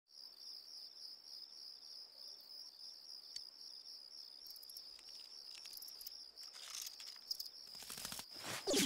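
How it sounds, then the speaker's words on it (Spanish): Steady high insect chirping, a grasshopper in the Persona 4 Golden video game on PS Vita, runs continuously and fairly faint, with a few soft rustles and a louder patter building near the end. "Saltamontes random."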